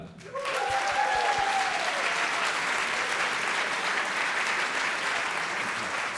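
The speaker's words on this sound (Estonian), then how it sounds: "kõigepealt paluks ühe suure aplausi" Sustained audience applause at a school playback show, a dense wash of clapping that swells quickly and holds steady throughout, with a few whoops and cheers rising above it near the start.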